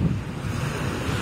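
Ocean waves surge and wash against the shore in Taishan, China, a loud, continuous rumble mixed with strong wind buffeting the microphone, with no voices.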